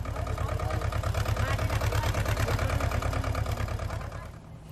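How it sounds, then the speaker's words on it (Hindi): A tractor engine runs steadily while hauling goods at Kedarnath, a loud, continuous low mechanical rumble with rapid regular pulsing that eases slightly near the end; faint voices may sit beneath it. "ट्रैक्टर से वहां पर सामान ले जाया जा रहा है।"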